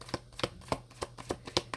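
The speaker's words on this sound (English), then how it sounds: "you watch me shuffle, you watch me pull from different decks" Tarot cards from a 78-card deck are shuffled close by in a quick series of about seven crisp riffling snaps, evenly spaced and fairly quiet.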